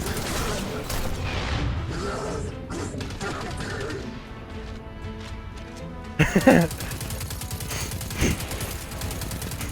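Sticky grenades exploding in Destiny 2, a busy firefight with scattered gunshots followed by a sudden loud blast and crashing debris, then further impacts, with game music and effects around it.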